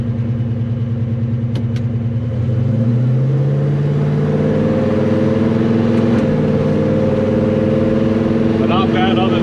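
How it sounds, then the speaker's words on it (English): A car engine fitted with a Holley 4165 List 6211 800 CFM spreadbore double-pumper carburetor idles loud and close, then the throttle snaps and the revs climb before settling back to a steady idle. "if I just kind of snap the throttle, it comes back down normally"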